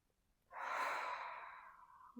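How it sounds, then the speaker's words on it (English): One long, deep, calming breath during a rest-day mobility workout, heard close and steady as a soft airy rush that swells and then tapers away, with no talking over it. "nice deep breath in. And one more, just to calm ourselves."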